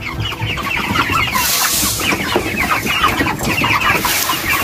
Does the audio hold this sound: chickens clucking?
yes